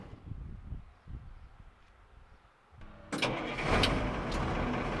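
A vehicle engine at a houseboat build site cranks and catches partway through, rising from low rumbling background noise into a louder, sustained running sound nearby.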